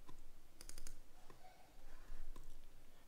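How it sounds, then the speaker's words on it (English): A couple of quick, light computer mouse clicks in a quiet room, close to the microphone, with faint background hiss and no talking. "Double click the icon."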